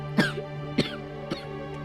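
Three short, dry coughs spaced about half a second apart, close and moderately loud, over a steady low hum.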